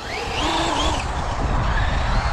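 A Traxxas UDR RC truck on standard tyres driving and drifting, its electric motor whining loudly and continuously as the pitch rises and falls with throttle, close with rushing tyre noise.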